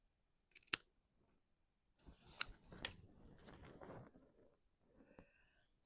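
Scissors snip a small piece off the end of a kit build, with a sharp single snip early on followed by a burst of close, crisp cutting and rustling, then a few quieter clicks.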